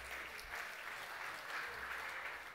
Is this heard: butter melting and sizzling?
no